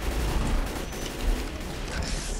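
Gunfire in the zombie shooter game Left 4 Dead 2 crackles as a dense, continuous barrage of rapid shots, loud and close throughout the short stretch.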